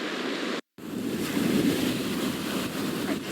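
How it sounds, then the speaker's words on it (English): Ocean waves wash steadily onto a sandy beach during a tropical storm, a continuous roar of surf mixed with strong wind buffeting the microphone, with a brief dropout early on and no voices. "the waves definitely look a little bit more daunting"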